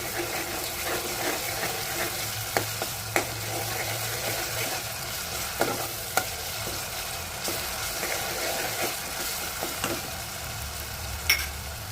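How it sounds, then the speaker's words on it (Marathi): Chopped tomato sautés with ginger, garlic, green chili and coriander paste in a pan for black-eyed pea usal: a steady, close sizzle with occasional clicks of a spoon against the pan, no talking. "एक चमचा आलं लसूण मिरची कोथिंबीरची पेस्ट घालून घेऊया, परतून घेऊया।"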